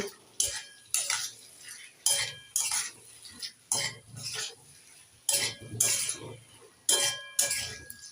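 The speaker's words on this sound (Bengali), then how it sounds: "ভেজে রাখা আলু আর কচু এবার একটু নেড়ে চেড়ে আবারও এক মিনিট কষে নেব" Fried potatoes and taro root being stirred in a pan with a utensil, giving repeated scraping, clinking strokes in an irregular rhythm, close and fairly quiet with only a faint sizzle beneath.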